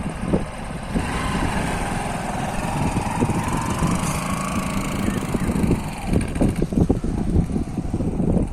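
Motorcycle engine running steadily as a rider learns to ride, a close, loud idling rumble that grows rougher and uneven near the end.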